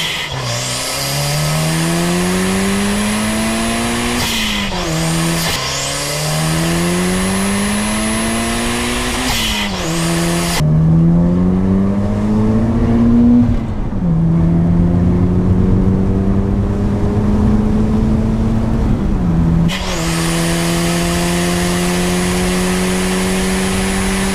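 Toyota Celica GT4 rally car revving hard through first gear, its engine climbing in pitch again and again with quick drops at each lift-off, loud and close, then one long sustained pull after a brief dip.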